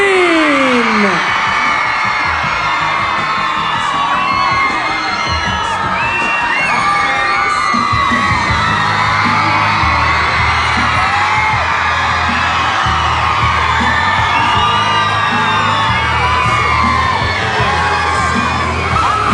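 A studio audience at Channel V HQ in 2003 cheers, whoops and shouts continuously to welcome Avril Lavigne, a loud dense roar that holds steady for the whole stretch.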